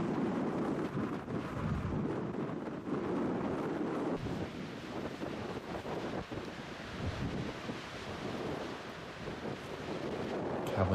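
Steady wind gusts buffet the microphone outdoors on a hilly disc golf course in Wyoming, a continuous loud rushing roar with no voices.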